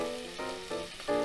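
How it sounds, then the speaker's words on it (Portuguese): Meat browning in a hot pan for lasagna, a quiet steady sizzle and frying crackle with slight surges, alone without voices. "dourar as carnes"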